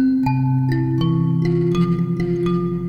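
Plucked metal tines of an mbira dzavadzimu ring out in a steady sequence of bright, sustained notes, each overlapping the last, played close and clear without voices.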